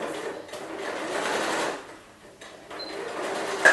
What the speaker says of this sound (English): So I'm going to sew, back tack, change my stitch length